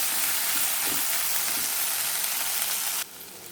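Okra (ladyfingers) frying in oil gives a dense, steady sizzle with occasional soft stirring sounds. It drops abruptly to a quieter hiss near the end.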